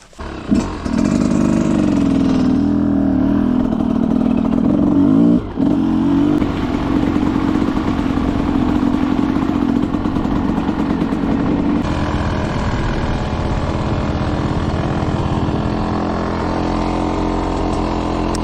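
An enduro motorcycle engine runs loud and close, a steady rumbling drone with slight revving swells, one brief cut near the start and a somewhat softer tone later on.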